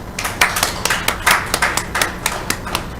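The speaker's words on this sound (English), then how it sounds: "I think all of them deserve a round of applause for that" Hands clapping at a school board of education meeting, a brisk run of distinct, fairly close claps in an uneven rhythm, sounding like a small group rather than a large crowd.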